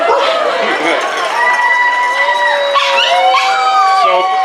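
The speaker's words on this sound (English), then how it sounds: "It's a greyhound, and she is the hometown power dog." A greyhound howls at a Halloween dog contest in long, wavering, drawn-out tones that rise and fall, loud and near, with a crowd and talking mixed in throughout.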